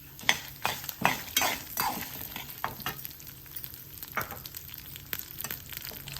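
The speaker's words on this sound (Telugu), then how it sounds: "ఇప్పుడు ఎండు మిరపకాయలు వేసేస్తాం" Dried red chillies frying in hot oil for a tangy traditional vakkai pachadi, crackling and sizzling steadily with scattered sharp pops and light stirring clinks, loud at first and settling to a softer sizzle.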